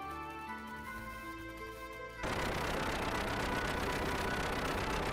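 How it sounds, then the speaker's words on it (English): Engine sound effect from the Xenogears video game sound test: after a couple of seconds of tonal game music, a loud, dense, steady engine roar starts abruptly and continues to the end. "Sounds like an engine."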